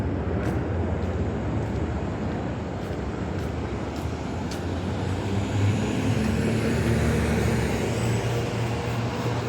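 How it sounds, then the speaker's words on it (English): A hospital helicopter takes off in the distance, its faint, steady rumbling drone building slightly while heard outdoors during a morning walk through a city neighbourhood. "Sounds like the helicopter from the hospital taking off."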